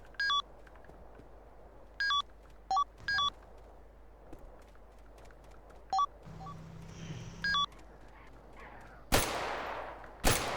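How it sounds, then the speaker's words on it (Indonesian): Gunfire in a GTA roleplay video game, with several short bursts of shots and beeping tones over a low hum, then a loud broadband crack near the end. "Oh, Pak, melakukan penembakan, Pak. Ini, Pak, di bawah, Pak. Sir, kita ditembak, Sir."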